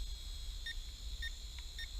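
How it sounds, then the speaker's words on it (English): A Syma X5HC quadcopter gives a few short, faint electronic beeps in a steady pattern over a constant high-pitched whine and low background rumble outdoors on a street. "you hear it start beeping"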